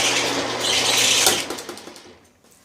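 With its clutch disengaged, the clutch housing of a Cochrane Bly machine keeps spinning at high RPM, a loud whirring, rattling mechanical drone that winds down and fades toward the end.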